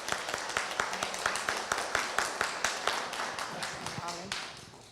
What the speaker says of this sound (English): Shall we give Charlie a round of applause?